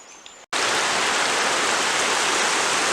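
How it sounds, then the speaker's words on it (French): A mountain torrent swollen with snowmelt rushes in a loud, dense, continuous roar that cuts in abruptly after a brief quieter moment with faint outdoor background. "Ok, maintenant arrivé au torrent"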